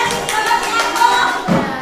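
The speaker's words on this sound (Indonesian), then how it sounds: "tepuk tangan untuk kita semua" A class of children clapping together, a steady patter of many small hands carrying on for a couple of seconds at moderate loudness.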